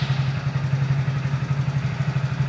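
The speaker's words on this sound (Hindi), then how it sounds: "अभी इंजन स्टार्ट करेंगे" A BS6 motorcycle engine idles steadily after a cold start, with a loud, continuous low thrum and a rapid, even mechanical pulse running throughout, with no talking.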